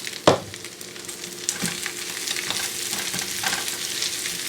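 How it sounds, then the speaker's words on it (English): Spinach hits hot bacon drippings with a sharp clatter, then wilts under a steady sizzle while a utensil stirs it, producing scattered scraping taps. "So we're going to take the spinach and we're going to wilt it down in our bacon drippings."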